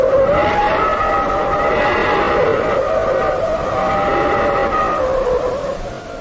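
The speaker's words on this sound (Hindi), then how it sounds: "इस आवाज को पार्कर सोलर प्रोब ने सूर्य के और करीब जाकर वहां के वातावरण में मौजूद गैसों के बदलाव को स्टडी करके बनाया है" Parker Solar Probe data on gases in the Sun's atmosphere, turned into sound: a loud, sustained whooshing roar with wavering, squealing tones that rise and fall, no voice over it.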